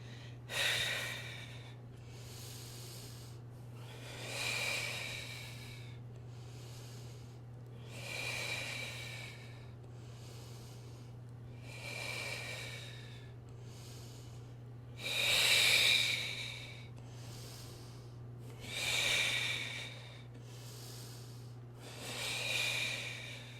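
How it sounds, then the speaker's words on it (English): Heavy breathing during a beginner stretching and leg workout, with seven loud breathy surges repeating every three to four seconds over a steady low hum, no talking. "A lot of heat gets transferred when you're breathing in and out like that heavy."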